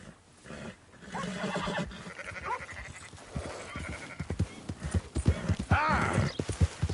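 Horse hooves clip-clop at a walking pace in the video game Red Dead Redemption 2, irregular hoof knocks growing louder toward the end, with brief animal bleats or whinnies mixed in.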